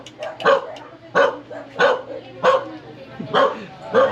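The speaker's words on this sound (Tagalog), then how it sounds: "Aso pala doon." A dog barks repeatedly in an alleyway of a residential neighborhood in the Philippines, six sharp, fairly close barks at steady intervals with a faint hum underneath.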